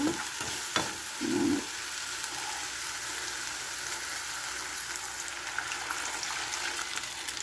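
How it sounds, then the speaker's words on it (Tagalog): Broth pours into a pan of sizzling pechay and shrimps, a brief splash and bubbling gush near the start, then a steady low sizzle continues alone. "At dito ay lagyan na po siya natin ng sabaw."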